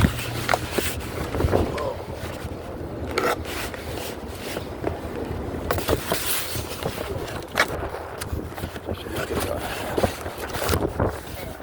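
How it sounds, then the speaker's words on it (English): Wind buffets the microphone in a steady rumbling roar, with gusty rushes and rustling throughout. "Ooh, it's a windy day."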